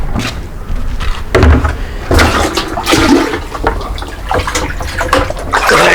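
Water poured out of a bucket splashes in heavy, uneven gushes for several seconds, loud and close.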